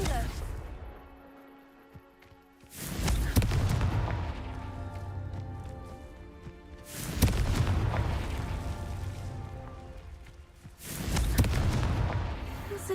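Confringo fire spells from Hogwarts Legacy bursting in three loud, booming explosions a few seconds apart, each with a rumbling tail and lingering crackle.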